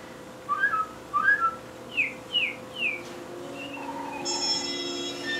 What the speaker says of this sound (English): Good morning, little bird.